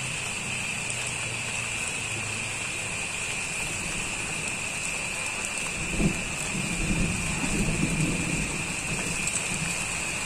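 Rain falling outdoors, a constant hiss with a heavier burst and low rumble midway, under a steady high insect-like drone, no talking.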